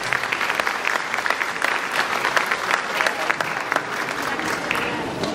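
Steady applause from a graduation audience at a primary school ceremony fills the scene, dense and continuous from start to finish at moderate loudness, with some crowd voices mixed in.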